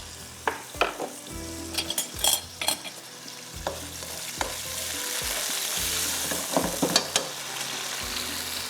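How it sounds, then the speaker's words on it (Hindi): Frozen peas frying in a pan with garlic, a steady sizzle broken by repeated clinks and scrapes of a spoon stirring against the pan, close and clear with no talking. "थोड़े से ये फ्राई हो जाए मटर"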